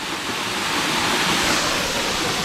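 A hillside waterfall pours in the rain as a dense, constant roar of rushing water, loud and close with no breaks and no voices.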